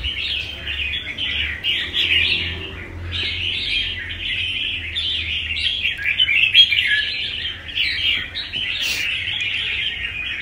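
A Vietnamese competition songbird chirps steadily in bright, repeated bursts of song and calls, continuous and fairly close for the whole stretch, with a low background hum beneath.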